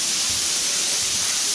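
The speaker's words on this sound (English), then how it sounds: "takes the air compressor and blows it out clean" A compressed-air hose blasts dust out of a soybean shipping container, producing a loud, continuous, close rushing hiss with no pauses.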